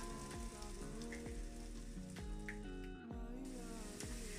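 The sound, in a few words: potatoes frying in oil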